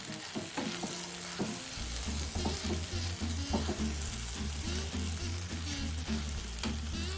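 Cluster beans poriyal with coriander leaves stirred in a hot pan, giving a continuous sizzling fry with repeated spatula scrapes and clatters, close and fairly loud.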